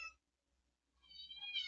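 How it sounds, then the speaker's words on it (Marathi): A cat meows up close: one short call at the very start, a quiet pause, then a longer, louder meow that swells toward the end. No one talks. "हे चावते मांजर"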